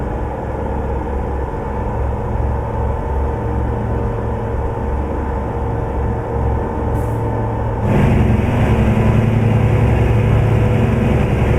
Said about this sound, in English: the engine's too loud